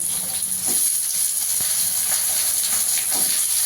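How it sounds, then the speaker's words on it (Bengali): Potatoes frying in hot oil in a kadai for raw-banana kofta give a steady, close, hissing sizzle that runs unbroken with faint crackles and no voices. "এবার কড়াইতে তেল দিয়েছি, আলুটা প্রথমে ভেজে নেব"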